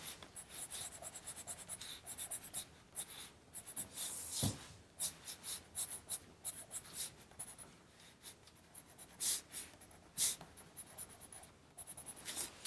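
An Indian ink pencil scratches and rubs across paper in quick, irregular strokes, faint and close, with short pauses between bursts of drawing.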